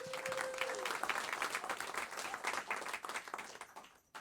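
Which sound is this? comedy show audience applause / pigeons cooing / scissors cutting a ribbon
comedy show audience applause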